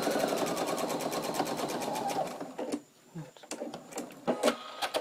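A sewing machine topstitches a dish towel with a fast, steady rapid-fire stitching rhythm for about two and a half seconds, then stops, leaving light clicks and fabric handling noises at close range.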